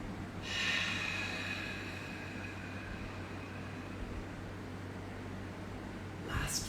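A long, deep exhale of yoga breathing, a broad airy rush that swells early, holds steady and trails off over several seconds, with a short sharp breath near the end over a low steady hum.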